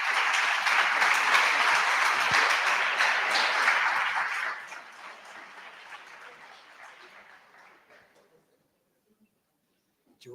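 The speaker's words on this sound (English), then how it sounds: "Give him a round of applause." An audience at an education internationalization conference in the Canary Islands applauds a speaker coming on stage, loud dense clapping that holds for about four seconds, then thins and fades out to near silence.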